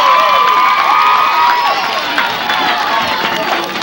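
A large crowd cheers at Tony Zuppo Field during a 1990 CIF Division 3 championship baseball game between Argonaut and Le Grand, a steady, loud, dense roar of voices and shouts held throughout.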